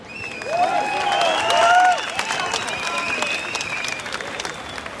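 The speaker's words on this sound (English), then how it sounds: "Round of applause." A protest crowd at an anti-vaccine-mandate rally in Sydney's Hyde Park applauds outdoors, with steady broadband clapping and scattered whistles and cheers that swell for about two seconds, then settle into a thinner, sustained patter.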